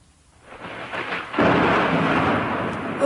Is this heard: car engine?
no